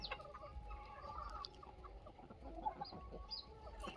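Desi free-range hens cluck in a steady, busy flock chatter, close and fairly loud, with a rooster-like call mixed in and no talking.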